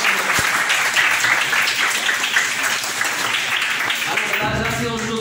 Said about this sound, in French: On applaudit tout le monde.